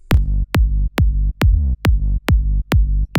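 An Ableton synth bassline run through LFO Tool with uncompensated phase: eight loud, deep notes pulse in an even rhythm, each ducking sharply to silence between hits, with one note briefly sliding in pitch.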